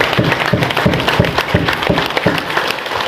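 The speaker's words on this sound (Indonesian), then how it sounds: "Tepuk tangan buat para pelatih." An audience at a Mahatma martial arts trainers' examination and grading event applauds the trainers, a loud, lively burst of many hands clapping in a rhythmic, roughly pulsing pattern, close and without talk.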